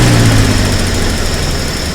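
A 1951 Pontiac with its original 6-volt system runs steadily up close, a loud continuous engine drone with a strong low hum that eases slightly over two seconds, without a clear rising rev.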